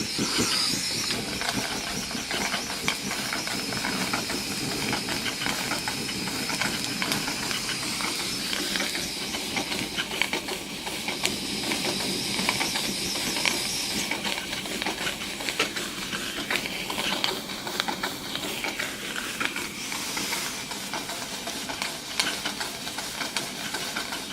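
A live steam engine, an English twin, hisses continuously and steadily for the whole stretch, loud and close, with faint mechanical chuffing under the hiss.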